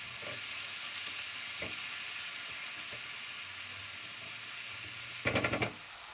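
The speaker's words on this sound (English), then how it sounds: "All we're going to do now is wait for the onion to soften and caramelize" Chopped onion frying and softening in a pan, a quiet, steady hiss of sizzling oil with soft occasional ticks and a short clatter of stirring near the end.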